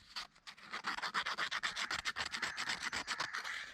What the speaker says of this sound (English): I am scratching my headlight with a dry sandpaper.